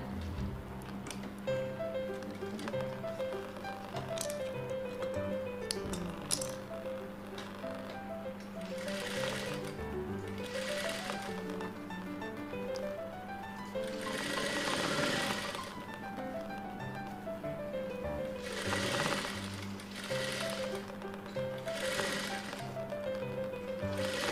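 A sewing machine stitches a blouse in steady runs, its needle ticking in a fast rhythm with a low motor hum beneath and brief pauses between bursts, fairly quiet and close, with no talk.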